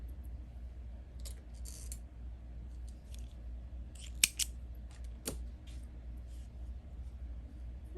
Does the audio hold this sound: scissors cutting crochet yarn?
yes